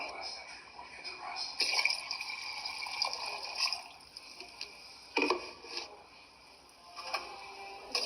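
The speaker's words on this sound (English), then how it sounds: "Then we're going to put in our half gallon of water in it." Half a gallon of water pours in a couple of short splashing bursts into a pot of beans, with clinking and scraping between pours.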